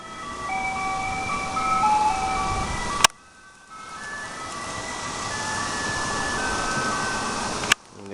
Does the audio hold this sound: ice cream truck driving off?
yes